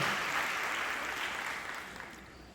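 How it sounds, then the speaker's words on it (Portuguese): A church congregation applauds in a dense, even patter of clapping that slowly fades over a few seconds. "Dê um forte aplauso, sim, e agradeça ao Senhor."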